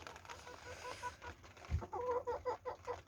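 Village chickens cluck in a short, pulsing series of calls, close and fairly clear, over a soft steady wash of rain.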